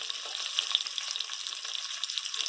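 Raisins roasting in already hot oil for sweet zarda rice, producing a dense, bright, continuous crackling sizzle with fine popping throughout, close and fairly loud, heard without voices.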